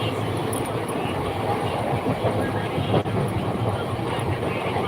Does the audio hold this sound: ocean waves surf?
no